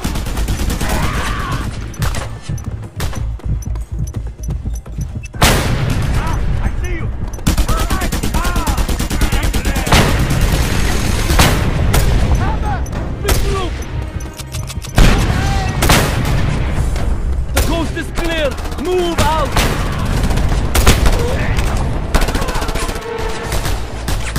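An automated gun turret firing in the Just Cause 2 video game, producing loud, dense bursts of rapid gunfire that continue almost without pause, with booming impacts at intervals and game voices mixed in.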